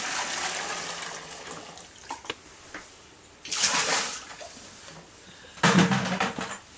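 Maple sap is poured from one pot into another during backyard syrup making: a soft watery trickle throughout, swelling into two louder gushing splashes of pouring near the end.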